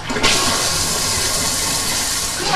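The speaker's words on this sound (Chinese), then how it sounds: "你看，它就冲水了。" A Huida smart toilet in a guest bathroom flushes with a sudden rushing surge of water that holds steady and loud for a couple of seconds, with no talking.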